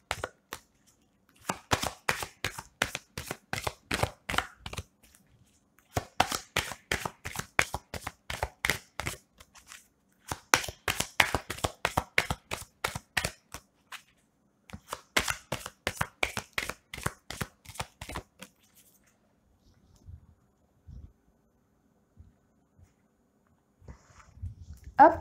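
Tarot cards shuffled by hand in quick riffling bursts of rapid slaps, four runs separated by short pauses, then a few soft taps as the deck settles; no talking.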